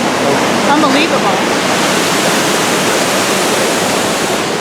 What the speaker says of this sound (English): that's a pretty good waterfall